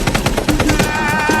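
Rapid machine gun fire in sustained automatic bursts, loud and close, in a historical war scene from the European colonial conquest of Africa.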